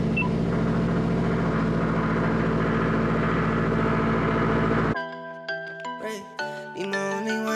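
A Subaru STI engine on a cold start idles with a loud, steady, dense rumble for about five seconds before music abruptly takes over.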